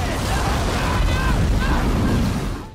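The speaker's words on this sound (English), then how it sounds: "an explosion turns a tornado into a fire-nado" An explosion in a tornado movie scene sets the storm alight, a loud, dense roaring blast that rumbles on without a break before cutting off, with a voice partly under the noise.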